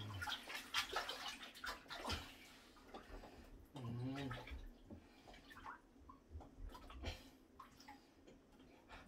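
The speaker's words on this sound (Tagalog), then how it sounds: "Sasabunan na natin habang siya ay naliligo" A child is being soaped while bathing in a bathtub, with soft, quiet splashes, sloshing and drips scattered through a hushed room, plus a brief burst of bubbling water in the middle.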